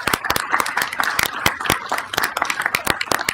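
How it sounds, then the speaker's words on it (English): A council meeting audience claps for the HOPE team, with sharp, fairly close hand claps landing in a quick, uneven patter that stays loud across the whole stretch. "let's give a round of applause to the HOPE team"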